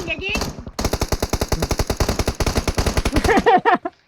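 Rapid automatic gunfire from the video game PUBG Mobile, loud sustained bursts of evenly spaced shots over a few seconds, with a voice speaking briefly at the start and again at the end.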